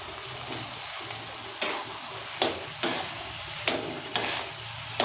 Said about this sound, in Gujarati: એ 3 મિનિટ ફેરવીશું એટલે તેલ બધું બટાકાના માવો ચૂસી લેશે